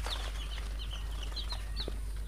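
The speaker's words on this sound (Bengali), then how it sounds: "এই যে টাইগার মুরগির বাচ্চা" Tiger chicken chicks on a poultry farm give repeated high, thin cheeps and soft clucks at a moderate distance, scattered across a steady low background hum, with an occasional rustle of wings.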